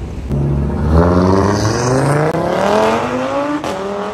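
A stock 1996 Toyota Corolla engine revs hard at a car show, its pitch climbing and falling through several loud, close sweeps, with a sharp drop mid-rev and no talk over it.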